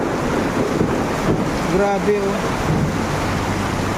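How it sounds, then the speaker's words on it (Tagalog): Heavy rain pours down steadily at a bus terminal while thunder rumbles, forming a loud, constant wash of noise with a brief voice speaking over it. "Lakas ng kulog, ang lakas ng ulan."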